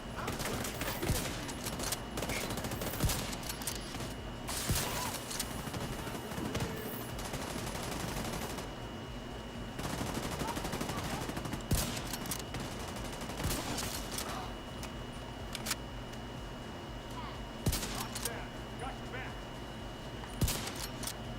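A deployable turret fires in the video game The Division 2, rattling off repeated automatic bursts amid other gunfire across a long firefight, with brief pauses between volleys.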